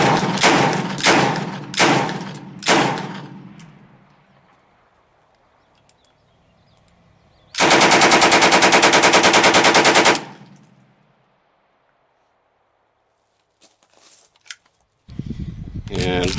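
A CF-W A bolt rifle with a short-barrel upper fires a quick series of loud, sharp shots, then a sustained burst of rapid fire, followed by quieter handling noise and another close burst at the end.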